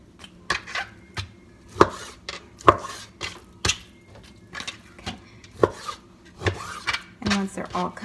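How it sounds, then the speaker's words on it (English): A knife chops vegetables into pieces on a cutting board, with sharp, irregular thuds and short scraping strokes repeated close by. "I'm gonna cut them up like that to decent sizes for the fry"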